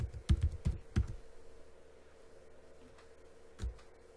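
Computer keyboard keys tapped in a short cluster of quick, close strokes, then a pause and one last keystroke while a passphrase is entered for a client certificate import.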